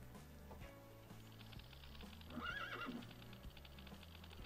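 A horse in the survival video game Life in the Woods gives a clear whinny midway through, rising over a steady bed of looping game music and ambient noise.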